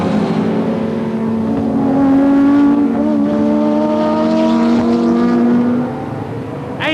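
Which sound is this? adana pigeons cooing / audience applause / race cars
race cars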